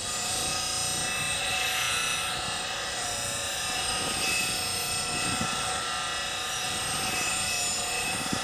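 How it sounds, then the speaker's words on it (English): A bench grinder running on its 80 grit wheel while a bowl gouge is shaped into a swept-back grind, giving a steady, loud, continuous grinding whine with a broad hiss that holds through the whole stretch without talk. "start with my roughing on the 80 grit side of my grinder"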